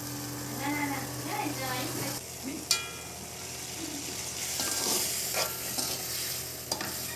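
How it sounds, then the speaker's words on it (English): Shredded cabbage stir-fried with chili paste in a hot pan for Malaysian mamak-style mee goreng, a steady close sizzle with spatula scrapes and clinks under a voice speaking throughout. "Just stir it and let the cabbage cook for a little while along with the chili giling."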